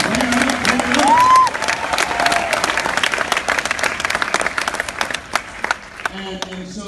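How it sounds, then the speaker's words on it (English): An audience applauds at a motivational speech in Jamaica, with dense, sustained clapping that slowly thins out, while someone speaks over it and a whoop rises briefly early on. "So give yourselves a round of applause."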